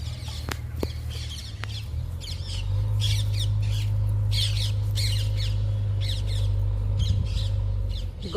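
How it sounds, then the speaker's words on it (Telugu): Sparrows in a garden give repeated sharp, squawky chirps in quick clusters, fairly close, over a steady low droning hum. "గార్డెన్లో పిచ్చుకలు చూడండి ఎలా సౌండ్ చేస్తున్నాయో"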